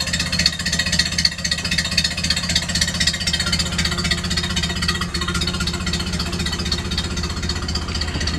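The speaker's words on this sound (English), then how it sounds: "there is something very special about the sound of a finely tuned Model A engine" A finely tuned 1930 Ford Model A engine idles with a steady, rhythmic mechanical chug, loud and close, running evenly without changing pace.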